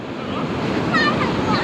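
Strong sea waves roll and wash against the shore in a continuous loud surge, with heavy wind buffeting the microphone.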